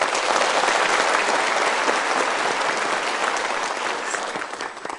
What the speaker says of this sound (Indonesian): so kita berikan tepuk tangan dulu.